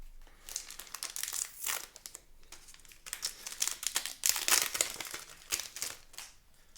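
Crinkly foil wrapper of a Magic: The Gathering Streets of New Capenna set booster pack being torn open and crumpled, a close, busy run of crackling rustles in irregular bursts.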